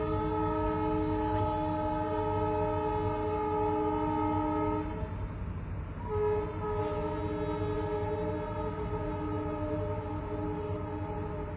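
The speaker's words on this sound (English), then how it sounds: "Sorry guys about the train." A train passes nearby, its sustained horn chord blaring steadily with a brief break, over a continuous low rumble of rolling wheels.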